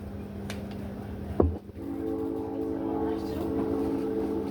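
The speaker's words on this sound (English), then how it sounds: "You hear that train?" A passing train rumbles steadily with a low, sustained drone and a sharp knock partway through, the noise swelling slightly toward the end with no voices over it.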